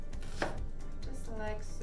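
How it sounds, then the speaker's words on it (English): An onion being chopped with a knife on a cutting board during quick vegetable prep for a stir fry, giving a rapid run of crisp blade strikes close by, with no talking. "This is how I chop an onion."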